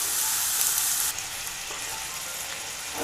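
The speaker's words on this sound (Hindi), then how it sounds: "इसको इसके 2 से 3 मिनट अच्छे से पहले भून लेंगे।" Half a kilo of cleaned chicken necks frying in a pan for curry, a loud continuous sizzle that drops slightly after the first second and carries on steady and close.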